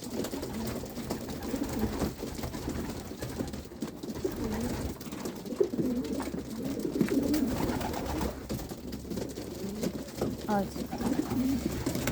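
Pigeons coo steadily at close range, low throaty calls overlapping one another over a busy background of rustling and faint murmur.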